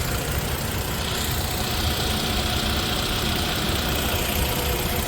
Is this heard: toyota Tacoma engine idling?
yes